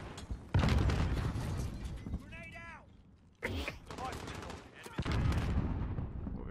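Gunfire in Call of Duty Modern Warfare: dense bursts of automatic shots and loud impacts come close and in clusters, with a sharp blast near the middle and short whistling effects between them.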